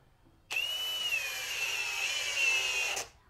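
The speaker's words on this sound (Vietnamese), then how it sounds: "vặn bằng chức năng khoan vào phát một luôn" A Dongcheng DCJZ06-13 20V cordless drill in drill mode drives into wood with a close, steady high whine lasting about two and a half seconds, starting and stopping abruptly against near silence.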